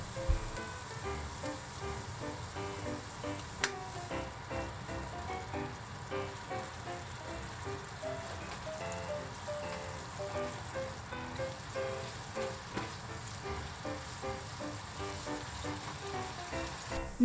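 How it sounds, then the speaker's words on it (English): A meat mixture with ketchup, soy sauce, sugar and chili powder simmering down in a pan, a soft continuous sizzle and bubbling, quiet and steady throughout. "Cook until most of the liquid has evaporated and the meat mixture is thick."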